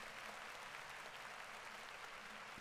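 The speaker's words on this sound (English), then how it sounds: "I've added just a basic applause" A quiet crowd applause ambience layer in FL Studio, a continuous soft wash of many hands clapping at a steady level with no break or swell.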